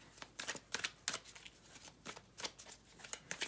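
Tarot cards are shuffled close by, giving a quick run of crisp riffling flicks and light slaps at an uneven rhythm, quiet and with no speech over it.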